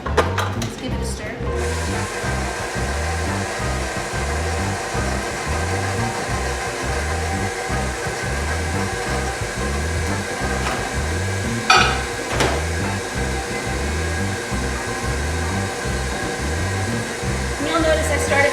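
A stand mixer with a paddle attachment beats beignet dough in a kitchen, a loud steady motor whir with a rapid rhythmic thumping from the paddle that runs throughout, with a brief clatter partway.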